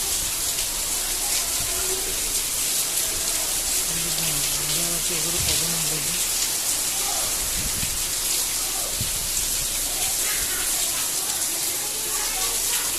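Heavy rain pours down in a dense, continuous roar, loud and close throughout, with a few faint voices and thuds beneath it.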